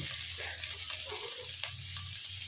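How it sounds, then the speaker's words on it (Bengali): Soybean chunks and cubed potato fry in a pan, with a continuous soft sizzle and a low hum underneath, plus a few faint scrapes from stirring. "এগুলোকে আমি ভালো করে ভেজে নেব"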